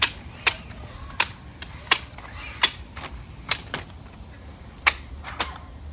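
A 12.5 ft telescoping aluminum ladder extends by itself, giving off a string of sharp, evenly spaced clicks as each section locks, close by over a faint steady background.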